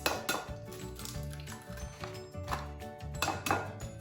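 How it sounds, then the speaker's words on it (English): Eggs are cracked into a bowl, five or six in turn, giving a quick series of sharp shell taps and glassy clinks against the rim, close and moderately loud, with no talk. "in this bowl, I'm going to crack 5 or 6 eggs"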